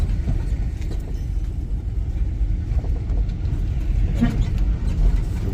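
Road traffic in Hahira, Georgia on a weekday afternoon, heard as a steady, low engine-and-tire rumble from a moving vehicle that holds throughout with no talking.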